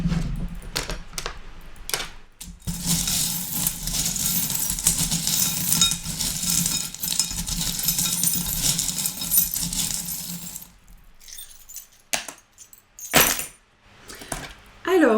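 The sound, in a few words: fortune-telling charms being picked up and jangling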